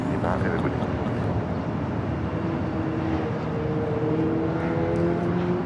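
A Viva Aerobus airliner at Los Angeles airport gives a steady, loud jet engine roar with a broad rushing wash, heard from nearby. The whine holds constant throughout.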